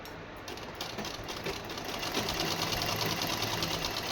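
A sewing machine stitches a suit sleeve with a steady, fast, even whir of needle strokes that builds slightly, running alone at moderate level for the whole stretch.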